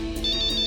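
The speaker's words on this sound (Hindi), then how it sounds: "दादी उसका खुद ही फोन आ गया।" A phone ringtone sounds for an incoming call, a brief electronic tone pulsing rapidly and loudly over a dense background hum.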